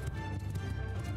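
Horse hooves galloping in Mount & Blade II: Bannerlord, a fast, steady clip-clop rhythm of several mounts running close and loud with a low rumble beneath, no voices over it.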